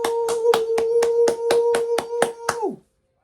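A man claps his hands in an even rhythm, about eleven sharp claps over a sustained tone, then stops, leaving a silent tail.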